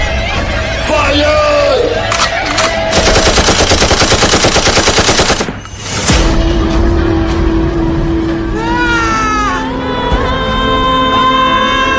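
Loud, rapid machine-gun fire in a Hindi-language film battle scene, a dense sustained rattle of shots lasting a couple of seconds, with shouting voices and other battle noise around it.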